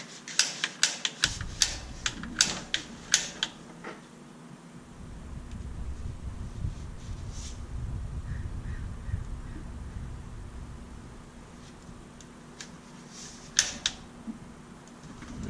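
A water heater's pilot light igniter being clicked, a quick run of sharp close clicks at the start followed by a low steady hiss of gas, with a few more clicks near the end.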